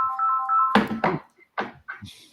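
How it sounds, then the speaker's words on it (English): A phone ringtone sounds a clear, steady electronic melody for under a second during an indoor conversation at a tech conference. Voices and knocking sounds cut in right after it. "the AI listening in on us and just sounding an alarm there"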